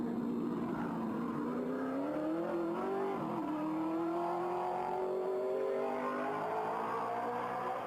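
A methanol-fuelled race car climbing the Pikes Peak International Hill Climb, its engine note rising and shifting pitch as it accelerates uphill, heard steadily from a distance for several seconds without talk.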